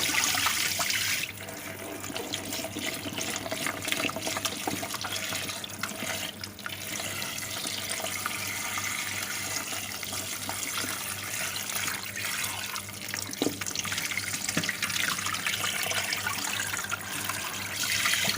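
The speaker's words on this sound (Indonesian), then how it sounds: "ini kita cuci dulu biar bersih. Kita kumbah dulu. Kita ganti lagi sama air yang baru." Cassava is washed by hand in a basin of water, with continuous splashing and sloshing at close range for about eighteen seconds and no talking.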